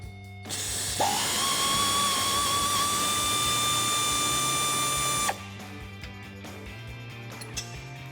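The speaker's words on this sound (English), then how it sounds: "you can get both of them with the air ratchet" An air ratchet spinning off a sway bar bushing bracket bolt on a 2008-2019 Dodge Challenger, a loud whirring burst lasting about four seconds that then cuts off, followed by a few faint clinks in a quiet shop.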